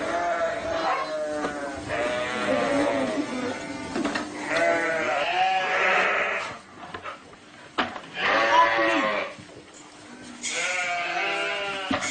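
Several sheep bleat loudly and close by, one long wavering cry after another, with brief pauses between calls.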